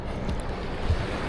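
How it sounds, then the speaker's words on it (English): Ocean surf rolling onto a muddy beach in Costa Rica, a steady low wash of breaking waves with wind buffeting the microphone, no talk over it. "There's a lot of waves."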